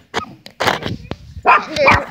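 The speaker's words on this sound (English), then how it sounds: "That's my dog." A dog barks close by in a quick series of sharp barks and yips, with short pauses between them.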